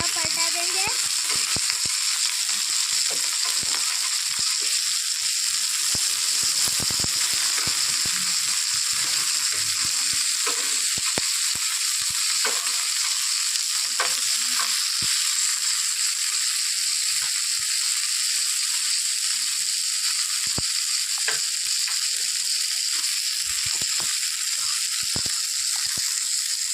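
Mahurali fish pieces frying in a pan, a loud, dense, unbroken sizzle of hot oil lasting throughout, with occasional faint clicks and knocks underneath.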